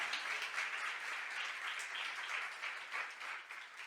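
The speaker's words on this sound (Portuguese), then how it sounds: "Você pode aplaudir o Senhor?" A church congregation applauds together in a sustained, even wash of clapping that fills the room at moderate loudness, with faint voices mixed in.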